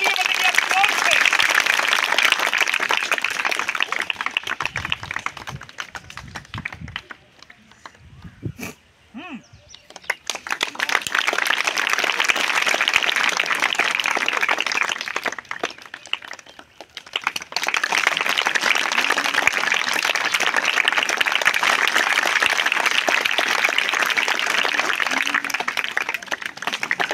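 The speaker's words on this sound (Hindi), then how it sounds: "तालियां बजेंगी आपकी जोर से।" An audience at a magic show bursts into sustained, loud applause that fades into a brief lull with voices, then swells again into long rounds of clapping.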